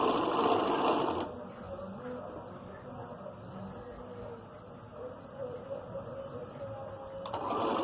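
A sewing machine stitches a shirt neckline in a steady, continuous mechanical whir, louder at the start and end with a quieter middle stretch, close by and with no talk over it.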